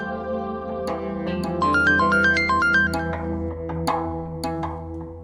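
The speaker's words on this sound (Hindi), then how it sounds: "अननोन नंबर से कॉल आ रही है।" A melodic electronic phone ringtone repeats a short rising pattern of tones over a steady hum, loud and close, with a few sharp clicks around it.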